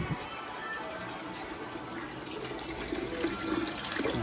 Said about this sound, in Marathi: अर्धी बालदी भरली तरी गरम पाणी येते